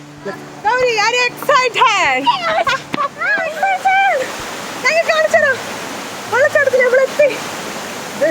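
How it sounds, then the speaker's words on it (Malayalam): A small waterfall at Vayalada near Balussery gives a steady rush of falling water throughout, with children and adults talking and calling loudly over it. "ആ കണ്ട ചെറിയ വെള്ളച്ചാട്ടത്തിലേക്ക് തന്നെ പോകാൻ തീരുമാനിച്ചു"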